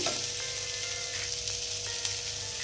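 Crushed peas and cumin seeds frying in hot oil in a pan, giving a steady, close sizzle with light stirring scrapes throughout.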